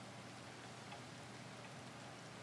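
Rain in the video game Coral Island, a soft steady hiss of falling drops, quiet and even with no other sounds.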